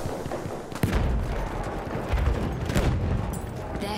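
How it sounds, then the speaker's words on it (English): Gunfire and explosions in a Battlefield 1 video game battle, dense bursts of shots with heavy low booms rolling through, loud and continuous, with occasional sharp cracks near the start and middle. "Sling a grenade! Grenade out! Watch it!"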